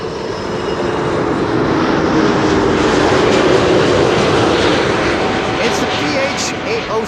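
A KLM airliner landing at Schiphol on runway 06 gives a loud, steady, broad jet roar that fills the whole stretch without a break.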